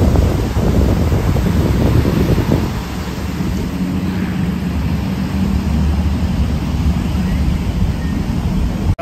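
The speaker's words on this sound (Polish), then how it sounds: "No już wyłoniła nam się piękna plaża." Waves washing onto a quiet beach in Krabi, Thailand, a steady loud surf roar mixed with wind buffeting the microphone, no one speaking.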